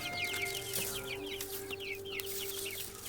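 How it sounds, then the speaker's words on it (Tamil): Chickens cluck steadily and close by while being shut back into their coop, a continuous busy chatter of hens over a low background hum. "அப்படியே கோழிகளை மறுபடியும் கூட்டிலையே அடைச்சிட்டேன்."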